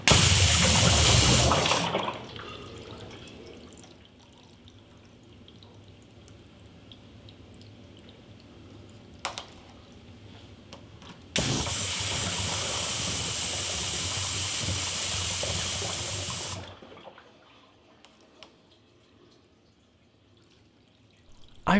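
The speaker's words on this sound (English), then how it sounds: "you're able to blast bubbles of air into the tank to break up that settled material" Compressed air blasts into a drained water heater tank to stir up settled sediment. Two loud, hissing bursts of rushing air and water are separated by a quieter gurgling stretch, with faint drips near the end.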